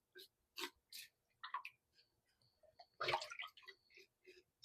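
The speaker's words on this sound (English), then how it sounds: "always ensure to use cold water to wash the chicken" Cold tap water splashes and trickles over raw chicken being washed by hand, with intermittent gurgling, dripping and sloshing bursts, one fuller gush midway, close and fairly quiet.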